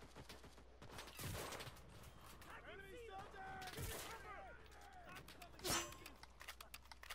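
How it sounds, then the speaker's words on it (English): Gunfire in the Enlisted video game, scattered cracks and a few heavier bursts at a distance under a busy battlefield mix with warbling effects and faint voices. "Somebody's shooting at me."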